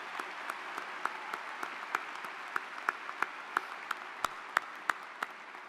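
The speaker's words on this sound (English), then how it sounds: "So please join me in a round of applause for our faculty and for your parents" Commencement crowd claps for faculty and parents at a university music school ceremony: sustained applause with sharp individual claps popping out in an irregular rhythm, moderately distant.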